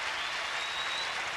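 Tennis crowd bursting into loud, sustained applause, a dense wash of clapping with no voices standing out.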